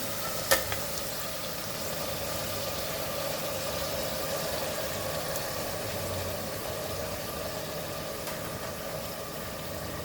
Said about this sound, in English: So let this now fry nicely. Let the tomatoes get cooked nicely, soft.